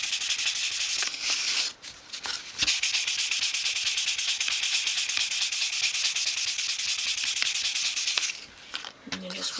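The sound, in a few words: sanding wood with 500 grit sandpaper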